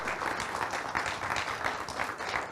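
An audience at a TiE Pune talk event applauds, with dense continuous clapping from many hands at moderate distance, steady throughout.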